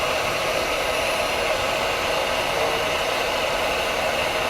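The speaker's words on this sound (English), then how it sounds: "So a good heat gun will work." Heat gun heating a part held with Loctite, a constant loud fan-driven hiss and blowing roar at steady pitch, with no pauses and no speech.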